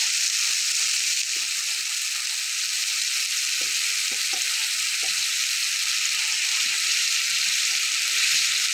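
Vegetables frying in a pan for chicken korma, a continuous bright sizzle with small pops and occasional stirring scrapes, loud and close, no voices.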